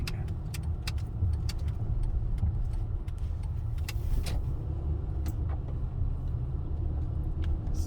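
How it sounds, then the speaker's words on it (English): A car drives along a road through a wood, with a steady low engine and tyre rumble heard from the front of the vehicle and scattered light ticks and clicks over it. "you're recording the front of a car going through a wood"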